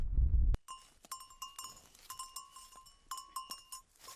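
A goat on open grassland bleats with nasal, wavering cries, repeated several times in short bursts after an opening thump, fairly faint and close.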